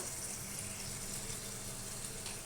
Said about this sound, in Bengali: জারটা ধুয়ে একটু জল দিয়ে দিচ্ছি